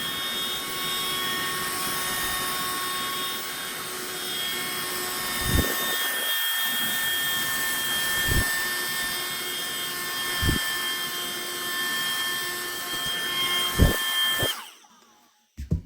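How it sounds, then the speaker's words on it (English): A steady whining vacuum cleaner motor drones continuously with a few brief bumps and knocks while cleaning a styrofoam model mountain, then cuts off abruptly near the end. "I'm going to attack that with a vacuum"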